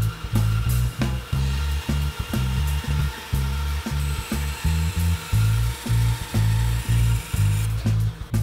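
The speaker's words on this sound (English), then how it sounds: "At the bandsaw, I need to carefully cut off both sides of this block" A bandsaw cuts both sides off a wooden block for a Krenov-style hand plane, a loud steady motor hum broken by rhythmic pulsing as the blade works through the wood, close and continuous with no talk.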